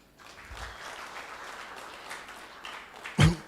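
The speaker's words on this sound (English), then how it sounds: "A big round of applause." Steady applause from the audience at a climate fund consultation workshop, a moderate, even patter of many hands held at a constant level for several seconds, closing with a louder thump near the end.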